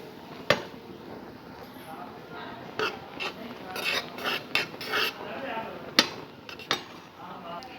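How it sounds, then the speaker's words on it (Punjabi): Seviyan (vermicelli) simmering in a pan and being stirred: soft scraping and rasping strokes in an irregular rhythm, with a few sharper clinks of the utensil against the pan, close and fairly quiet. "ਸੇਵੀਆਂ ਨੇ ਜੋ ਆਪਣੀਆਂ ਚੰਗੀ ਤਰ੍ਹਾਂ ਰਿੱਝ ਰਹੀਆਂ ਨੇ ਤੇ ਹੁਣ ਆਪਾਂ ਇਹਨਾਂ ਨੂੰ ਹਿਲਾਉਂਦੇ ਰਵਾਂਗੇ"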